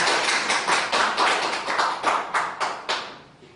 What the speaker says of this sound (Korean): 이런 거 좀 박수 쳐주세요